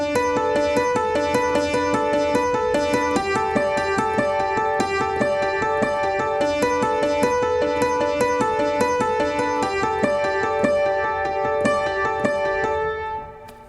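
Keyboard chords and melody play the bridge of a song steadily at a moderate tempo, a bright, even passage that fades out at the end, with no voices.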